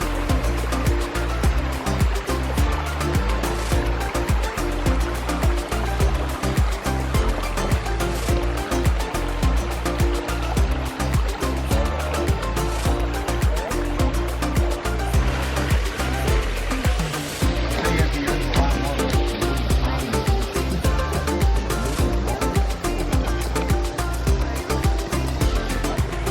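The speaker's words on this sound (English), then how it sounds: "This is the waterfall. That's the stream up there." A backyard koi pond waterfall fed by a stream, a continuous loud splashing rush of falling water that holds steady throughout with no talking.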